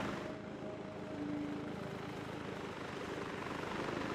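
A helicopter in the video game Arma 3 flies sideways with its nose turned perpendicular to its path, giving off a steady, even rotor and engine drone with a faint tonal whine and no voices.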